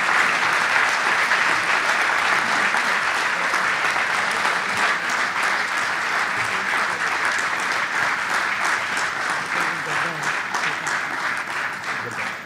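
Warm audience applause greets a Hindustani classical violinist taking the stage at a concert in Vadodara, a dense, even clapping that holds at full strength throughout and tapers slightly at the end.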